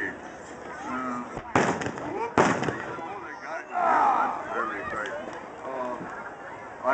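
A cannon fires from a boat during a pirate invasion reenactment on the water at Beaufort, two sharp blasts within a second of each other, booming over crowd chatter and people talking throughout.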